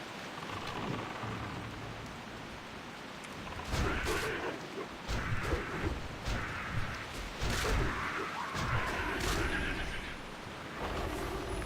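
Steady rain with rumbling thunder in the World of Warcraft game world, a continuous wash of rainfall with swelling low rolls rising midway and a horse-like whinny, under faint talk.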